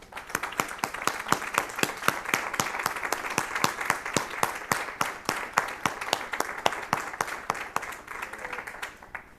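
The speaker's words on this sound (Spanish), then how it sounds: "¿Y por qué no les damos un aplauso?" Church congregation at a Sunday service applauding together, a dense, steady wave of many hands clapping at close range for about nine seconds without letup.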